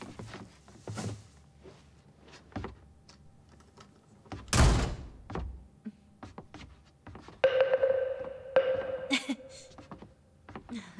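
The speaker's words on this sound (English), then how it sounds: "Close the door for me, will you?" An apartment door swinging shut with a single sharp thud midway, in a quiet indoor room with footsteps and light movement around it.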